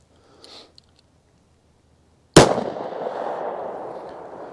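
A single loud .45 ACP pistol shot from a 4 1/4 inch Commander, fired once after a quiet stretch with a faint click, followed by a long echoing tail that fades slowly.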